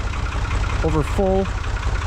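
A Farmall H tractor engine runs at a steady idle with a low, even rumble throughout, while a person speaks briefly over it.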